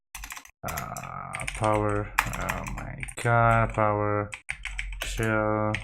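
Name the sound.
typing on a computer keyboard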